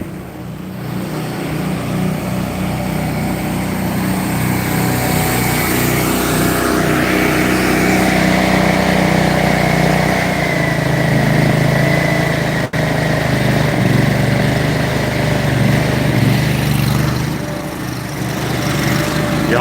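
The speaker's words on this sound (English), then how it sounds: "Honda engine." A Honda engine runs steadily on wood lot equipment, a continuous loud mechanical drone that shifts pitch slightly midway and holds without a break for about twenty seconds.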